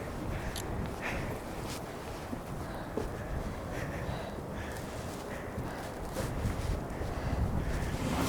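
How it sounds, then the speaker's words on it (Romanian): Strong wind blows outdoors in Arctic Norway, a continuous rumbling buffet across the microphone that swells slightly toward the end, with faint scattered knocks beneath. "Bă, ce poate să bată vântul."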